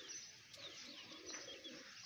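A black pigeon coos softly outdoors, a faint, steady murmur with a few thin chirps from other birds around it.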